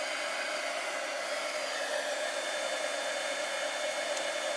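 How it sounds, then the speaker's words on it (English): Steady, continuous whooshing roar of an embossing heat gun blowing over white embossing powder on a watercolor piece, constant and fairly close throughout with no pauses. "now I'm going to use my embossing gun or a tool to heat this up"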